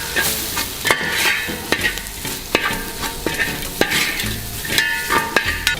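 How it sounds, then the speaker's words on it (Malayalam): Chilli powder masala fries in a pan for Kerala-style ayala fish, a loud continuous sizzle broken by repeated scraping strokes of a spoon stirring against the pan, close up with no voices. "ഇതിൻ്റെ അനുസരിച്ച് നമുക്ക് നന്നായിട്ട് മിക്സ് ചെയ്യാം"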